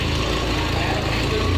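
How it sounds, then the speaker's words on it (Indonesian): An engine idles with a steady, low, even rumble that holds unchanged through the short stretch, with no audible start-up. "langkah selanjutnya kita akan menghidupkan enjin"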